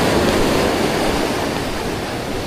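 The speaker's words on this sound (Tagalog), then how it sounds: "Yan, ang lalakas ng alon." Strong ocean waves crashing near rocks on a shore, a loud continuous roar of surf with wind, close to the microphone.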